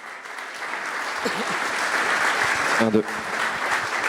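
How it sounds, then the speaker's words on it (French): An audience at a French NFT meet-up applauds as artists come on stage, a steady wash of clapping throughout, with a brief voice speaking over it near the end. "On peut les applaudir."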